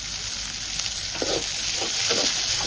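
Finely chopped onion and garlic sizzle with green chilies in a pan over a wood-fired stove while a raw tomato chutney is made, a constant close frying hiss with a few soft stirring scrapes.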